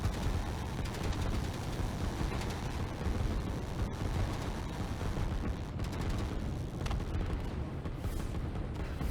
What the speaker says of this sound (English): The firecrackers are going off. They sound wonderful.